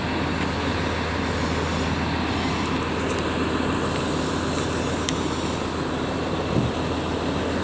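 A loud, steady roar of a moving airport train between Klaten and Purwosari fills the whole clip, with rumbling wheels and a brief faint squeal near the end.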